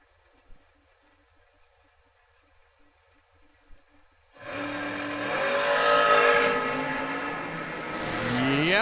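Drag racing cars launch down the strip at a Fall King of the Creek event, a quiet lead-in giving way to a sudden loud engine roar that climbs in pitch as they accelerate away.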